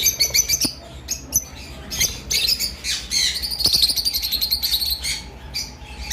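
Lotino pied lovebirds at a bird sale give sharp, rapid chirps and squawks in quick overlapping bursts, loud and close, with no voices.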